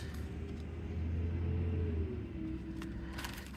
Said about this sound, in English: You can hear the trash trucks going up and down the street.